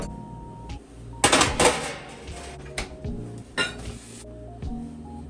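Mixing bowls set out on a kitchen counter while making Valentine's Day cookies, with a series of close clattering knocks and clinks, one louder cluster followed by a few lighter taps.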